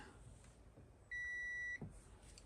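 A single steady electronic beep from a Heathkit IT-12 signal tracer, loud and clear, lasting about half a second, with faint background noise before and after.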